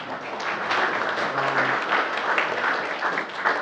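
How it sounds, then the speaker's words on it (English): Steady audience applause for panelists at a community forum, a continuous wash of many hands clapping at moderate loudness with little talk. "Let's give them another round of applause."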